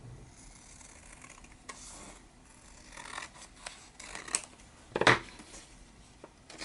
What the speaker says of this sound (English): So now we're just gonna cut this a little.